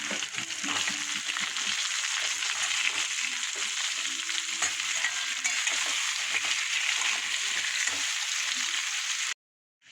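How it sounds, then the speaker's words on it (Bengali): Potatoes frying in a pan give a loud, steady sizzle with crackles and some stirring, close by, before cutting out abruptly at the end. "এবার আমি আলুগুলো দিয়ে দেবো আলুগুলো ভাজা ভাজা হলে মশলা দেবো"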